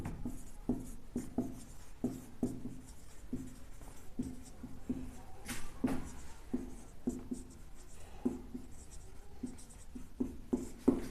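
Handwriting with a pen on paper, giving a steady run of short scratchy strokes and taps in an even rhythm, close and quiet with no talking over it.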